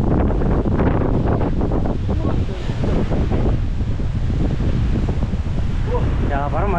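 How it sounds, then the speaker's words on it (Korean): Strong wind roars steadily across the microphone on a rainy mountain hike up Gubongsan in Jinan, a loud broadband rush that never lets up, with voices talking underneath. "바람 많이 분대"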